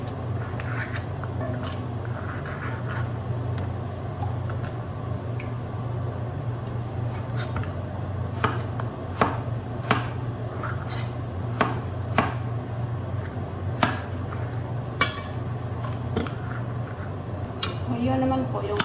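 A carrot being chopped into cubes for a Serbian vegetable soup, sharp knife taps on a cutting board in an irregular run that grows denser toward the end, close and clear over a low kitchen hum.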